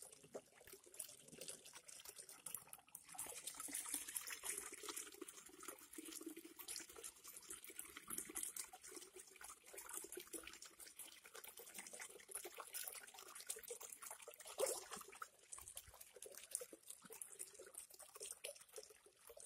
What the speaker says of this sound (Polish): Zaprezentuję teraz, z jaką prędkością napływa woda do stawu.